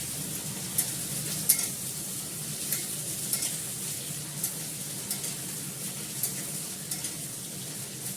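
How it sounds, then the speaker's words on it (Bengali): Spices and grated ginger frying in a pan, a continuous close sizzle with light scraping stirs at an even, unhurried pace, no voices. "লাল করে ভেজে নিই"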